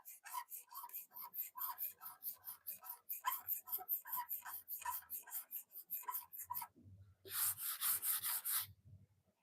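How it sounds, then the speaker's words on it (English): Sandpaper rubs back and forth over a custom speed bag drum ahead of painting, a quick run of close, rhythmic scratchy strokes, a brief pause, then a harder, brighter burst of strokes. "You know how you make a good paint job? A good sand job."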